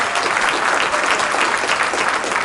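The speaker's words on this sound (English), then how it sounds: "Please give her a round of applause." NAACP meeting audience applauds State Senator Mamie Locke, a loud, dense, continuous burst of clapping from a crowd, close and without talk.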